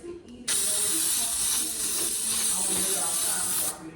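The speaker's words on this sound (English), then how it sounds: "I'm using my baking with flour spray to spray my pan down so it doesn't stick" A can of baking spray with flour hisses in one sustained burst of about three seconds as it coats a bundt cake pan, loud and close, with faint kitchen sounds around it.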